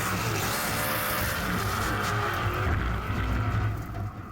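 Nissan 370Z drift car with a V8 at an Australian drifting event, a continuous loud engine roar and tyre noise sweeping through, rising in intensity toward the end where the car slams into the wall.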